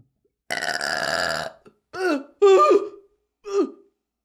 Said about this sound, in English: Gotta burp.